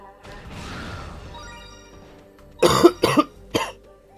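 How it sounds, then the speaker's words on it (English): A person coughs three times in quick succession, close and loud, after a stretch of quieter background sound during a Digimon World 4 gaming session. "my apologies for the cough"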